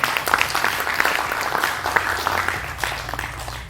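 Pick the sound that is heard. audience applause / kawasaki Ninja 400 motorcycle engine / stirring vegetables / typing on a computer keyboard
audience applause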